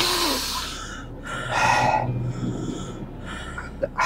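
A person drawing deep, forceful breaths, several rough, snort-like inhalations in short bursts separated by brief pauses, close to the microphone.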